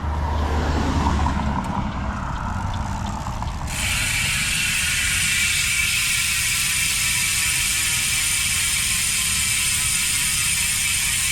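A Hasins Pro 4 MTB rear hub's ratchet buzzes in a rapid, continuous clicking whir as the wheel freewheels, loud and close with no talking.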